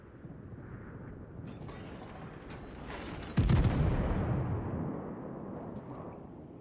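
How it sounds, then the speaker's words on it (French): A naval gun salvo in a video game: a heavy boom erupts suddenly over steady mechanical rumble, then rolls away into a long fading tail; a few faint clicks come before it. "À nouveau une salve très groupée"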